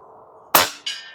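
An FX Airguns Crown MkII air rifle fires one shot close by, a crisp report trailed about a third of a second later by a distant metallic ping from the target.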